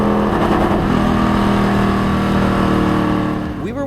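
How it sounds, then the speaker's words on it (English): A NASCAR race car engine at Auto Club Speedway drones at high, steady revs, held near the rev limiter, with a voice talking over it and a wavering pitch toward the end. "I found myself frequently hitting the rev limiter during my run."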